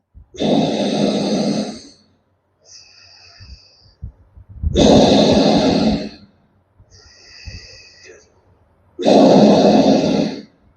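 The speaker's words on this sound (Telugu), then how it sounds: "3 సార్లు లాంగ్ బ్రీత్ తీసుకోండి. అందరూ శ్వాసలు తీసుకోండి 3 times." A group at a yoga session takes three long, deep breaths in unison, each a loud, drawn-out rush of air with quieter exhales between.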